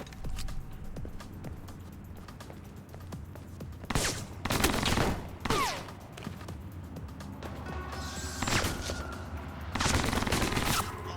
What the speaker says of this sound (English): Okay, I didn't see the massive machine gun.